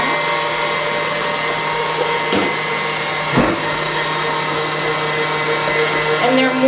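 Electric kitchen mixer running on high speed while mashing potatoes, a steady loud whirring drone that holds through the whole stretch, with a couple of brief bumps as the beaters knock against the bowl.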